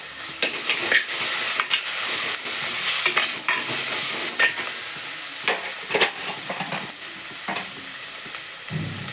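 Tomato masala with a pinch of turmeric fries in a pan while a spoon stirs it, a steady sizzle broken by repeated scraping strokes and clatters, no talking.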